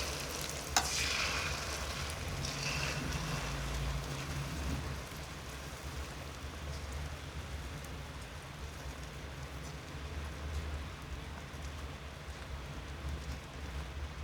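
Eggs fry in oil, a continuous crackling sizzle at moderate level, with a sharper click near the start and a low hum underneath.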